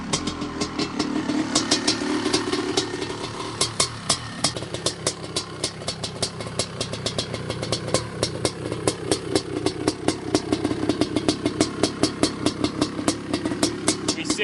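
A 1986 Honda CR500 two-stroke motorcycle with a 514 cc forged-piston engine runs close by, firing in a rapid rough rattle with repeated revs rising and falling throughout, no voices.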